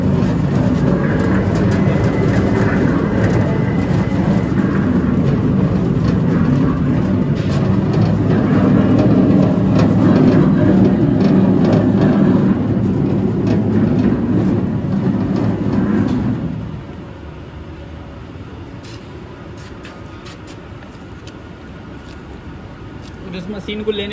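A 10-foot screw machine driven by a motor through covered belts and gears runs with a loud, dense mechanical roar, then drops abruptly to a much quieter hum partway through. A voice speaks over it.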